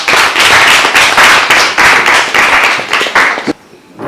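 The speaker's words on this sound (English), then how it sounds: "Let's give them a clap." A crowd claps steadily and loudly for several seconds, a dense wash of many hands, then it abruptly drops off near the end.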